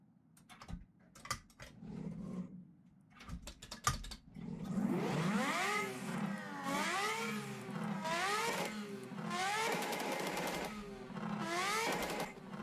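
A turbocharged rotary-engine car drifting, first a few sharp clicks and knocks, then repeated rising and falling revs as the engine winds up and drops back in quick cycles, loud and close.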